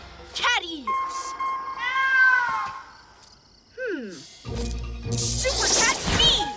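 Cartoon cat meows from a children's superhero animated series, several short rising-falling calls amid music and sound effects, with a voice talking over parts.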